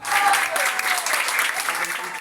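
Applause rings out in Barranquilla as an ophthalmologist who recovered from coronavirus is discharged and leaves the clinic; steady clapping fills the scene with voices mixed underneath.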